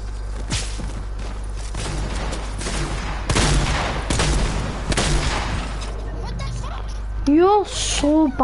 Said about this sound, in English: How do we guys shoot me with that shotgun?